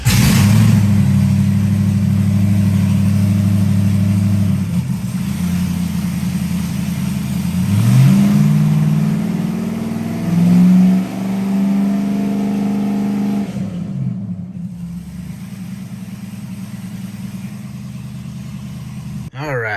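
An LS-swapped Ford Crown Victoria engine revs up and down over about twenty seconds, its loud low rumble climbing in pitch, holding, then dropping back to a steady idle, with some talk alongside it.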